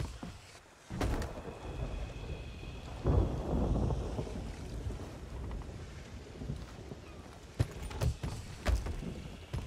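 A thunderstorm at sea in the pirate game Sea of Thieves: several loud rumbling thunder cracks break over a steady wash of rain and wind, with the heaviest bursts near the start and toward the end.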